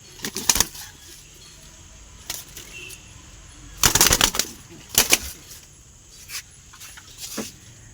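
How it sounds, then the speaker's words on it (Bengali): Madrasi pigeons in a home loft making several sharp bursts of wing flapping and rustling movement, scattered over a quiet background, fairly close. "এখানে কিছু মেদ্রাজি পায়রা আছে"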